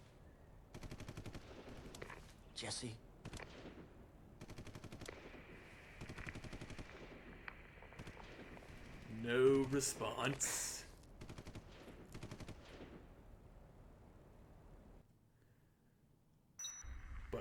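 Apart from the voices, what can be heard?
distant machine gun fire in video game Dead Rising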